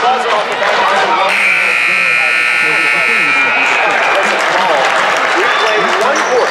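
A buzzer sounds near the end of a quarter in a girls' high school basketball game, a long flat tone of about two seconds. Crowd cheering and an excited commentator's voice run over it.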